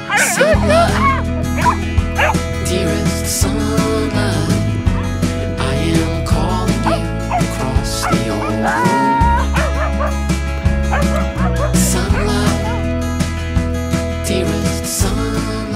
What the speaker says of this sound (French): on a rencontré une promeneuse trop sympa avec plein de chiens